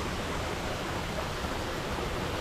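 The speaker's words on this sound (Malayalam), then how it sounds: "വാട്ടർഫോൾസ്." A waterfall and river flowing in New Zealand on a misty early morning make a steady, dense rush of water that holds at an even level from start to end, with no voices.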